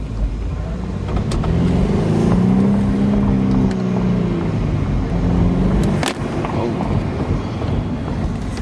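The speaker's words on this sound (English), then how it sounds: "I want you guys to hear the spools, because like I said, the thrill is not from the exhaust." Engine of a 2014 BMW 428i xDrive revving with rising and falling turbo spool tones, loud and close, inside a parking deck, with wind noise and a brief bump near the end.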